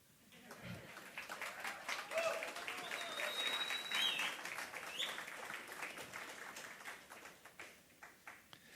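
A church congregation breaks into applause during a sermon, clapping swelling to a sustained moderate roar with a shout or cheer mixed in, then tapering off near the end.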